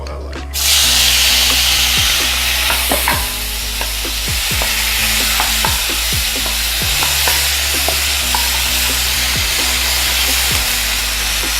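Beef pieces hit hot melted butter in a pan and sizzle loudly and steadily, with sharp clacks from the pan being shaken and stirred throughout.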